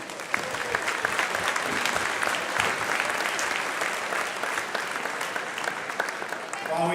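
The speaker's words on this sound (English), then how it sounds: "Let's give a round of applause to all those who helped donate." An audience in a school gym at a soup supper and band festival breaks into sustained applause, a dense wash of clapping that holds steady for several seconds.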